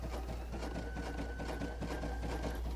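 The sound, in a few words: Baby Lock Sashiko sewing machine stitching fabric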